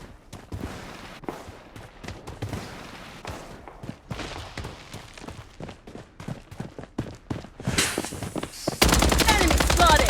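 Rapid automatic gunfire from the Blood Strike battle royale game comes in tight repeated bursts of sharp cracks. It is loud and close, and a sustained roar swells at the very end.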